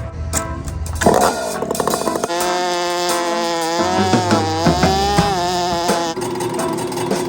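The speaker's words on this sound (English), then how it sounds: "Nobody knows it's a first fuel injected power saw." A fuel-injected Husqvarna power saw runs loud and close. Its engine note climbs and falls through several revs, with sputtering idle stretches between the buzzing high-speed runs.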